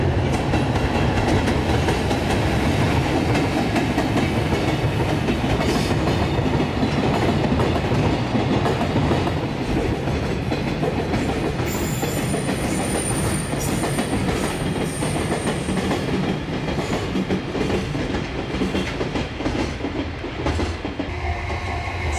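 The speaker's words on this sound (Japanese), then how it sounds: "次の貨物列車も来ましたね。" A JR freight train rolls past on the Osaka freight terminal line, loud and close, with continuous rumbling wheels and rhythmic clickety-clack over rail joints for over twenty seconds, plus a brief high squeal partway through.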